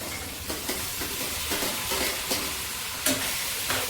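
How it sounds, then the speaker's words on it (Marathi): Spices and green peas roasting in ghee in a pan over a low gas flame for masale bhaat, a steady soft sizzle with several brief stirring scrapes recurring through it. "गॅस बारीक करून आपण सगळे हे मसाले भाजून घेऊ."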